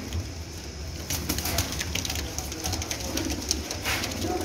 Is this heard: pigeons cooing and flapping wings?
yes